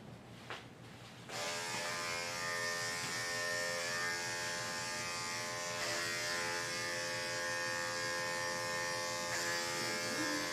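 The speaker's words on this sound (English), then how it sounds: "Can't see what I'm shaving." Electric clippers switch on and buzz steadily and close while shaving an Old English Sheepdog-doodle at a grooming session. The tone wavers slightly as the blade moves through the coat.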